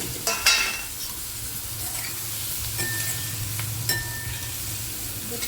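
Stuffed brinjals (gutti vankaya) fry in a pan of browned onion and masala curry, giving a steady, close sizzle with light stirring scrapes and a few sharper clicks, with no voices.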